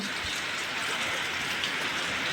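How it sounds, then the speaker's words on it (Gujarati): Heavy unseasonal rain in Kutch pours down in a dense, constant hiss, drumming on surfaces nearby without a break. "વરસાદ ફૂલ ચાલુ છે સવારથી"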